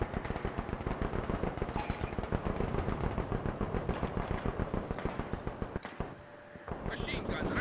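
Machine gun fire in Company of Heroes, fast repetitive bursts rattling almost without pause, loud and near, broken by a brief lull before more shots, with voices talking over the battle.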